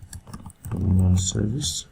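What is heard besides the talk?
typing on a computer keyboard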